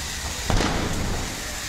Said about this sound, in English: Explosions echoed through the downtown east side